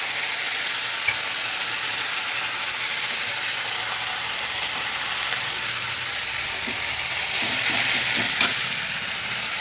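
Garlic paste frying in oil in a pan after a pinch of asafoetida, a steady broadband sizzle that holds throughout, with a few faint clinks near the end and a brief swell around eight seconds.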